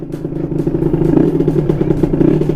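A Kawasaki KR150 two-stroke motorcycle with a faulty carburettor, its engine clattering and revving close by in a choppy, uneven rhythm with no talk.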